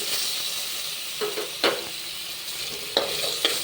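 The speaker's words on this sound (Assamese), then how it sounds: "এতিয়া মই আলুখিনি ফ্ৰাই কৰি ল'ম।" Potatoes coated in turmeric and salt fry in a pan with a steady hissing sizzle. A few sharp pops and spatters stand out over the continuous crackle, and no one speaks.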